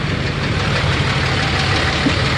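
A Duramax LMM diesel truck engine idles close by while making a bad noise, a loud, steady, gritty rumble with a faint knocking texture throughout and no voices.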